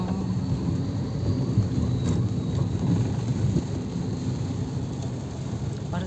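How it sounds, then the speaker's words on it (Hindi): Heavy rain pours down during a drive through Delhi traffic, a steady dense hiss with a low rumble underneath, unbroken and fairly loud throughout. "और जबरदस्त तेज बारिश आ रही है।"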